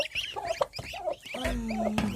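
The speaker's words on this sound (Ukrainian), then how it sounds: "Гусі." Geese honk and cackle nearby in short, nasal bursts with brief gaps between them, and a low rumble joins partway through.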